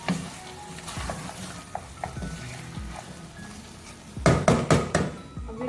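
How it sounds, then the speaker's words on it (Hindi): Mutton cooked with whole spices, ground coriander and garam masala, stirred in a pot: a bed of frying sizzle with scattered spoon knocks, then a louder run of quick scraping strokes near the end. No one speaks. "अब इसको अच्छी तरह से मिक्स करेंगे।"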